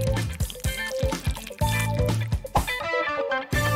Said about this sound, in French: Versant un peu dans de l'eau en faisant des mouvements en zigzag.